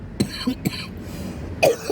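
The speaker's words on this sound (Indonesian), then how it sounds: "Aduh maaf batuk nih." A person coughs several times in quick, short bursts, with a throaty catch between them, close to the listener.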